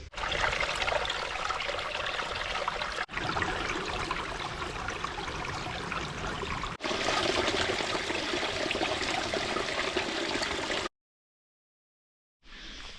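Water trickles steadily near a trail campsite on the Appalachian Trail in New Jersey, a continuous close babbling flow with short breaks and a brief silence near the end.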